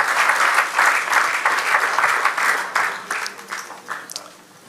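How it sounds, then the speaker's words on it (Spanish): A church congregation breaks into dense, sustained applause, loud and close, holding steady and then thinning out in the final second. "démosle un aplauso al Señor"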